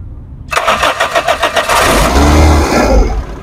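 A gas-fuelled car at a driving school in Sylhet cranks with a quick, stuttering rhythm of starter pulses, then catches and settles into a steady, loud running engine close by.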